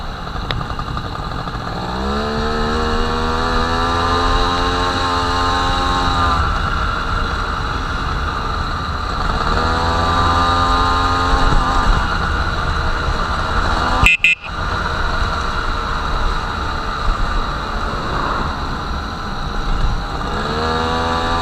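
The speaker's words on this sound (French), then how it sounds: "Je sais pas si vous entendez le moteur, mais putain, ça ronronne quoi." An MBK 51 moped engine purrs steadily while being ridden, its rising and falling harmonic drone revving up and easing off through gear changes, loud and close throughout.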